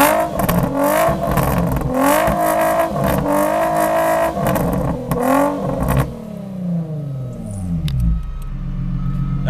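An Infiniti G35 after an E-tune, its engine revving hard in several loud surges with crackling exhaust pops, then the revs dropping away as it settles back toward idle.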